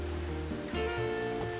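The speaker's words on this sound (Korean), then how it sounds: "바다와 맞닿아 있는 폭포로 유명하죠" Jeongbang waterfall on Jeju plunging straight into the sea after heavy rain, a dense continuous roar of heavy water flow, with tonal music playing over it.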